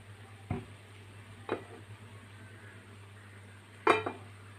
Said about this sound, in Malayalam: മെഴുക്കുവരട്ടി വെന്തുകൊണ്ടിരിക്കുകയാണ്.